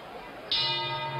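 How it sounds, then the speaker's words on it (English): A boxing bell clangs once to end a round at a heavyweight bout, a sharp, bright strike with a long ringing decay that carries over a dense crowd roar. "And there's the bell"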